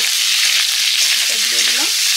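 A dry roasted-and-ground paste of cumin, coriander, dried red chili and whole garam masala fries in hot oil, giving a steady, close sizzle with soft stirring scrapes.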